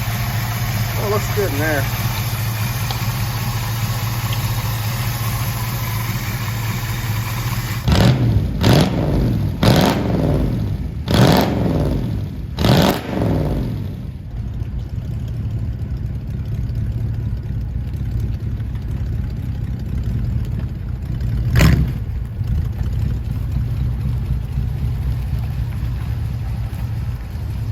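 A 1969 Camaro engine idles with a steady, loud rumble while warming up, rising briefly in a few revs, as someone speaks over it.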